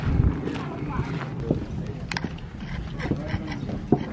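Large horses at a desert horseback-riding stable in Arizona clip-clop on the ground, their steady hoof steps mixing with footsteps and ambient noise while people talk throughout.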